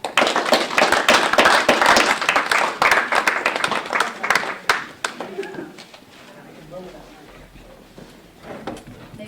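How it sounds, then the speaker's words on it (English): Warm audience applause greets poet Ellen LaFleche at a reading, loud and dense for several seconds before dying away into a few scattered claps and quieter room sound. "please, nice applause for Ellen LaFleche"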